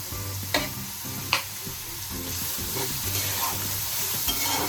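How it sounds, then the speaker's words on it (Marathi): Chopped onion with a little salt sizzles steadily in a pan, with spoon or spatula scrapes and a few sharp knocks against the metal. Close and continuous, no voices. "तर कांदा लवकर भाजण्यासाठी आपण त्यामध्ये थोडंसं मीठ टाकणार आहे"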